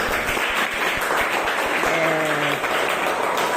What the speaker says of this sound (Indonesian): Sekarang tepuk tangan dulu untuk kita semuanya.